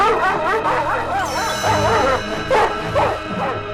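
Cartoon hunting dog barking and yipping at a fox in an animated story, with excited barks over a continuous orchestral music bed.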